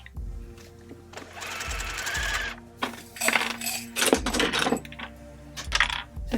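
A sewing machine stitches buttonholes on a summer dress made from thrifted cotton sheets. It runs in short, start-stop bursts of rapid whirring stitches separated by brief pauses, close and moderately quiet.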